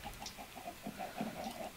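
Chickens clucking inside a coop in a video game, a steady run of short overlapping clucks close by with no voices.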